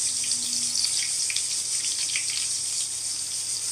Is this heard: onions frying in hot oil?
yes